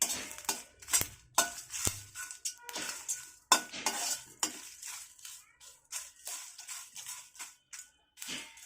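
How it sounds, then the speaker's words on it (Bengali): A utensil scrapes and clatters against a pan while chalta (elephant apple) pickle is stirred, giving irregular close metallic knocks and scrapes over a faint sizzle. "এগুলোকে আমি কয়েক সেকেন্ড নেড়ে নেব।"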